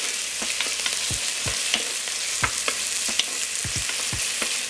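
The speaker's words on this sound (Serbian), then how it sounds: "Luk ću propržiti dok ne omekša." Chopped onion sizzles and fries in hot oil in a pot, a continuous close hiss broken by soft stirring clicks and scrapes, with no voices.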